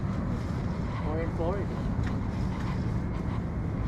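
Loud, continuous wind buffets the microphone with a constant roar at Redondo Beach Pier, waves and water noise beneath; a voice briefly calls out.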